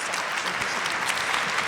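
An audience claps in steady, dense applause at the close of a women and criminal justice spotlight conversation, loud and continuous throughout with no talk over it.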